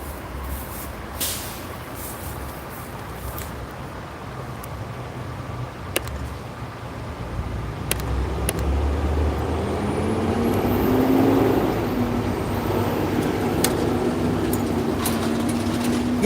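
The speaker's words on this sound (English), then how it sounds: "You can hear the trucks and the sirens" City traffic in Denver rumbles past with heavy trucks, a hiss like an air brake and a rising engine drone swelling midway, steady and moderately distant.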